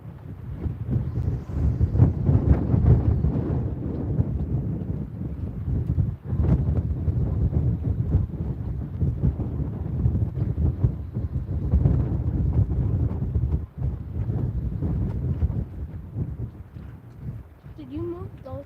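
Wind buffets the microphone on a lake during a catfishing trip, a steady low roar with gusts, with people talking underneath.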